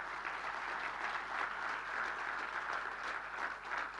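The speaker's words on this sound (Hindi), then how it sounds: "ताली मार रहे हैं, जोर से मारिए आप।" An audience at a talk in Dhar breaks into steady applause, a dense wash of clapping at moderate distance that holds evenly for several seconds.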